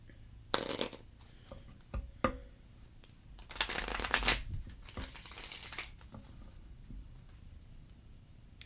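Moonology oracle card deck being shuffled by hand, quiet close riffles and flutters in a few bursts with soft taps and clicks between them.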